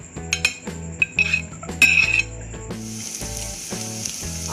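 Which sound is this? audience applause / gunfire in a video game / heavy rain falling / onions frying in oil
onions frying in oil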